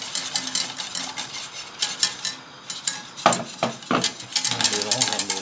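Stirring milk as it heats in a pan for a homemade flan pâtissier, with scattered scraping and clinking of a utensil against the pan, sharper bursts near the end, and a faint voice in the background.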